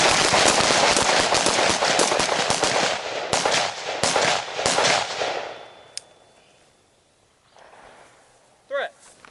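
Close-range rifle or carbine shots ring out in a rapid, loud, dense volley for several seconds, then the firing stops, leaving a quieter tail with a few faint sounds.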